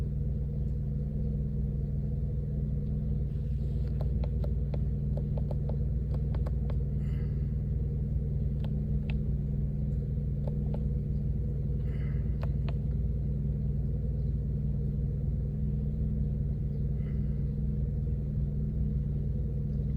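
A car engine idles steadily, a constant low rumble and hum that is close and even, with faint scattered clicks and ticks over it.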